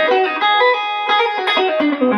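Electric guitar played through an overdrive pedal with the gain turned down, picked on the neck pickup for a bluesy tone; a clean-ish, sustained run of notes and chords, close and steady, with no talking.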